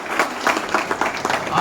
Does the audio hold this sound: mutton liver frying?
no